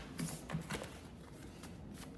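A deck of cards is shuffled close by, giving a few quick riffling bursts followed by softer rustling against a quiet indoor background.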